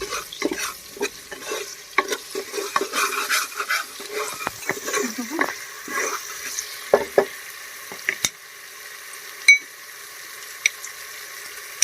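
Lotus stem for Kashmiri Nadir churma fries in a pan, with busy scraping stirs and sizzling for the first eight seconds, then a quieter steady sizzle broken by a few sharp clicks.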